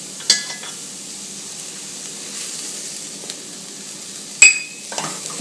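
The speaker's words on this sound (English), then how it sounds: "So let's melt the butter and roast it a little bit." Butter and flour sizzle softly in a pot over a lowered flame, a steady low crackle with a couple of sharp utensil clinks against the pot.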